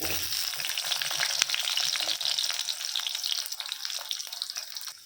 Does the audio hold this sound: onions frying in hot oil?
yes